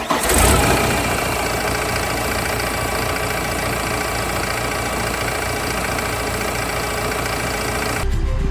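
A vineyard straddle tractor's diesel engine cranks and catches, then settles into a loud, steady, knocking idle close by for several seconds before cutting off.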